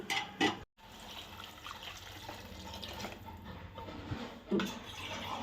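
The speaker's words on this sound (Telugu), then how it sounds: "మగ్గిపోయింది కదా ఇప్పుడు వాటర్ అయితే వేసేద్దాం" Water poured into a cooking pan in a home kitchen, a steady splashing pour running for several seconds after a brief clatter, close and fairly quiet with no talk.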